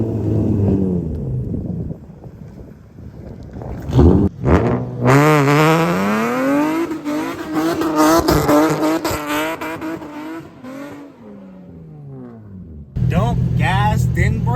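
An Infiniti G35 revs hard and slides, engine pitch sweeping up and down over loud broadband tire and exhaust noise, with a brief lull midway and people talking nearby.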